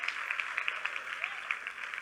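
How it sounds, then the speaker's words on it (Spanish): Audience applause at a church women's conference, faint and distant, heard as a light patter of scattered claps over a quiet room. "fuerte aplauso al Señor"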